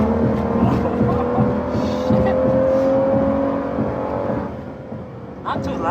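Engine of a 2019 Aston Martin Vantage running steadily at close range, a deep throbbing drone with a sustained tonal hum, easing slightly near the end; a voice may be faintly present.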